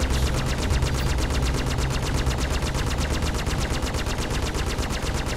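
A minigun in the video game Star Citizen fires continuously, a dense, rapid, unbroken mechanical rattle with heavy low rumble, loud and steady throughout.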